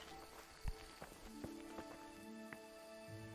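Footsteps in the Kingdom Come Deliverance video game, a handful of separate hollow thuds spaced irregularly over a steady ambient bed with tonal hum, moderately faint and with no talking.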